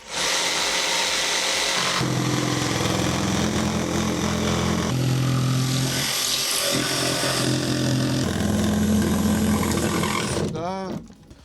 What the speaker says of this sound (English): So I've got some pretty cheap plywood. We're going to cut the shape